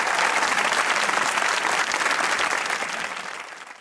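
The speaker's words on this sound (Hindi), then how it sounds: "बहुत तालियां" Studio audience applause on a Pakistani comedy talk show, a thick, steady wash of clapping that fades out toward the end without any talk.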